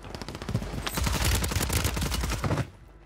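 Rapid automatic gunfire in a shooter video game, a dense sustained burst of shots lasting a couple of seconds before cutting off abruptly.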